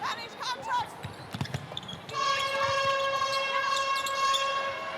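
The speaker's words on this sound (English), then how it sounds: "The siren" A sustained siren at a Suncorp Super Netball match blares over crowd noise and an announcer's voice, starting abruptly partway through and holding steady to the end.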